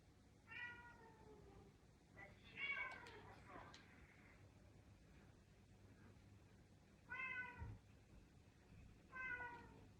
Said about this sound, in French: il risque d'y avoir des bruits. J'ai des chats.